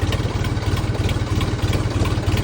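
Low, rumbling tractor engine with a two-disc clutch, running at a steady idle with a rapid, even throb, close by and continuous, no talking.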